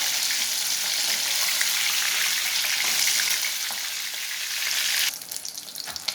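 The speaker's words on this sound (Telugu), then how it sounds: "ఆయిల్ కాగిన తర్వాత మనం ఫిష్ వేసుకోవాలండి." Red snapper pieces frying in hot oil give a steady, close, hissing sizzle that holds evenly, then thins into crackling pops near the end. No one speaks.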